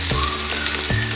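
Onion, tomato and brinjal masala fries in oil in a pan, giving a loud, close, constant sizzle with a couple of brief stirring scrapes.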